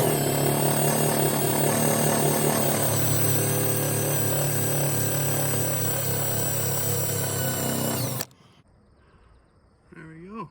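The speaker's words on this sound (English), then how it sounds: "got an eraser wheel, put on my Milwaukee drill. I'm gonna start buzzing these off" Eraser wheel spinning on a Milwaukee drill, stripping material during a classic semi truck build: a loud, steady grinding whine runs continuously for about eight seconds, then cuts off abruptly and leaves quiet background.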